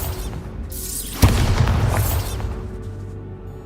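A Bombarda spell explodes in the video game Hogwarts Legacy, one sharp loud boom with a rumbling blast tail that fades over the next couple of seconds above steady game ambience.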